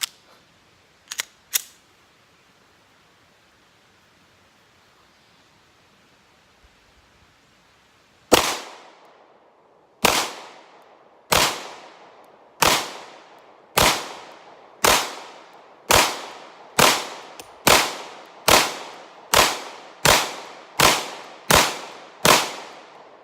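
A Smith & Wesson M&P 2.0 Compact pistol fires a string of about fourteen sharp, loud shots at a steady, fairly quick cadence, each with a short decaying ring, after a couple of earlier isolated cracks.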